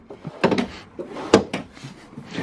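Kitchen drawers and cabinets are pushed shut inside a 2017 Jayco Precept 36T Class A motorhome, giving several close wooden thumps and knocks in quick irregular succession.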